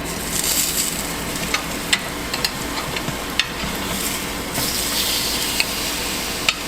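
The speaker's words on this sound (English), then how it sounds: "Just going to give them a flip." Pork chops sizzle steadily on the grill plate of a Power XL Air Fryer Grill, a continuous close crackling hiss broken by a few sharp clicks and taps as they are flipped.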